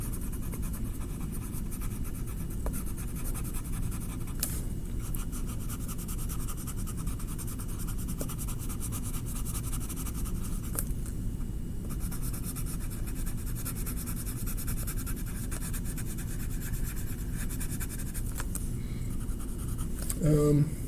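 A pencil scratches and shades on paper while drawing and coloring, giving a soft, continuous rasping with occasional sharper strokes, heard up close over a steady low background.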